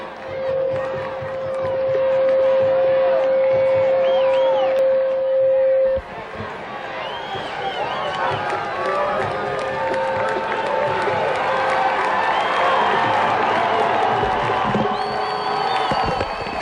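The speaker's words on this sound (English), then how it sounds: "Crowd standing on its feet." A high school football stadium crowd at a 1995 state championship game roars and cheers loudly and continuously, with shouting and a steady swell of noise, briefly under a whistle-like tone early on.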